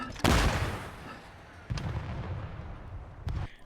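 RPG rocket launches in the shooter game ForeFront: three heavy booming blasts, the first loudest, each trailing into a rumbling roar, with faint talk in the background.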